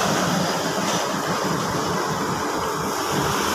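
A 2021 Toyota Vios with a dual VVT-i engine idles smoothly after a CVT transmission fluid change, giving a steady, even broadband rumble that stays close and constant with no talk over it.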